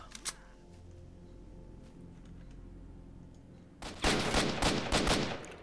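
Gunfire in the game STALKER starts with a single sharp shot, then a quiet stretch with a low hum, then a dense burst of rapid automatic fire near the end, loud and close.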